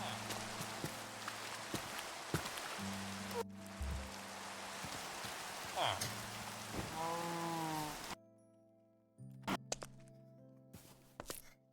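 Rain pattering on mud in Minecraft, a steady soft hiss of drops broken by thuds and footsteps. Game music plays along, with a brief quieter stretch near the end.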